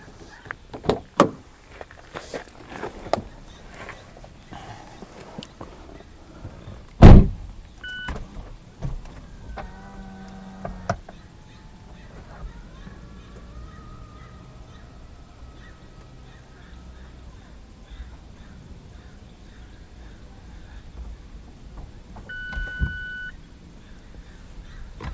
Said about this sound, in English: I'm going to show you just how the top origamis itself down and then back up again.